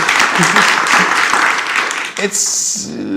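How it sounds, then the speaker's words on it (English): Applause breaks out from a summit audience in Washington, DC, a dense wash of clapping under a voice that talks over it, fading out near the end. "round of applause for that"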